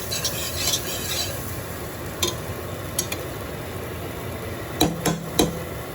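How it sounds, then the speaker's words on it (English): Heavy whipping cream being stirred into a butter and flour roux for baked macaroni and cheese: a steady soft scraping and swishing close by, with a few light clicks of the utensil against the pan. "I'm going to stir in, add heavy whipping cream"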